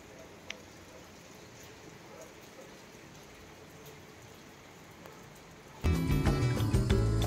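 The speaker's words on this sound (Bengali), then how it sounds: "বৃষ্টি হচ্ছে" Steady rain falls over fog-covered hills outside Glenary's in Darjeeling, a soft continuous hiss that swells into a much louder, closer wash of heavy drops near the end.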